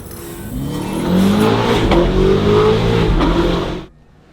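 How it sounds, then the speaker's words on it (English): A BMW G90 M5 with a Valvetronic Designs exhaust revs hard nearby, its engine climbing in a sustained loud roar before cutting off abruptly into near silence. "This is the world's best sounding G90 M5, brought to you guys by Valvetronic and Mike at G2 Auto Group"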